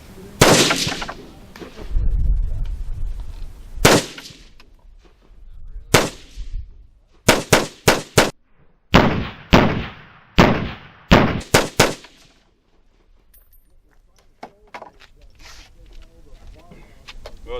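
Repeated gunshots from an AR-10 rifle in .308 fitted with a muzzle brake, fired outdoors in Shiocton, Wisconsin: sharp, loud cracks, several in quick succession with gaps between, and people talking before the shots.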